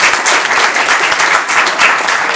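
Audience applause at a Korean spring science and technology policy forum, a steady dense clapping from a large crowd filling the hall without pause for a couple of seconds.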